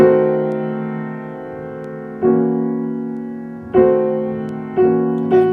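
Sustained piano chords ring out, a 5/4-2 chord first decaying slowly, then several more struck in succession, each fading before the next.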